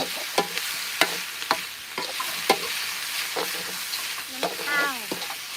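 Ingredients for a Thai bamboo shoot curry being stir-fried in a pan: repeated sharp scrapes and clacks of a spatula against the pan, roughly one every half second, over a steady close sizzle with no talking.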